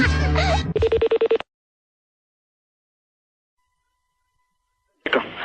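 A telephone rings once in a short electronic trill, after a burst of speech, then gives way to silence before another voice cuts in.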